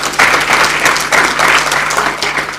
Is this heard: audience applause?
yes